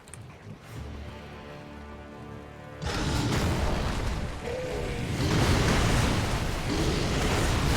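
Firecrackers go off in Sekiro, a sudden, loud, rushing burst that swells into a dense, noisy roar after a quieter hum and holds steady to the end.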